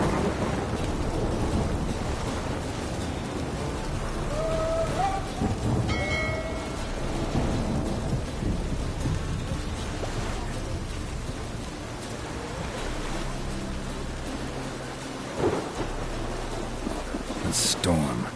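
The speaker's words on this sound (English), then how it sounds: "A storm, damn it." Thunderstorm with steady rain in The Witcher 3 video game, a continuous broadband downpour with rumbling thunder rolls throughout and a louder crack near the end.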